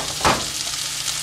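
Fried soya chunks for Manchurian are stirred in a hot frying pan, a single quick scrape over a steady sizzling hiss.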